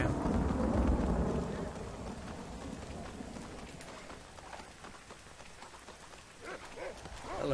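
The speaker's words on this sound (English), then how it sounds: "Just leave him out in the rain for a little bit, man." Rain falls steadily in the Red Dead Redemption game world, with a low thundery rumble at the start. The hiss fades to a softer patter, and a few faint background sounds come and go.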